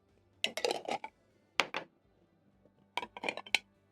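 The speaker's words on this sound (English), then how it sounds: "I'm going to be cracking into eggs to a bowl" Six eggs are cracked one after another into a bowl for a chipsi mayai recipe, heard as three close, crisp bursts of clicking and clinking against the bowl, separated by short quiet gaps, with no talking.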